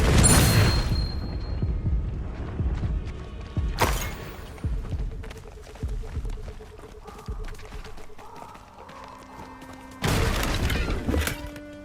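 Spell explosions and blasts in the PlayStation 5 game Hogwarts Legacy: a loud burst at the start, another sharp blast near four seconds, then scattered thuds and crackles, ending with a heavy, sustained explosion near the end.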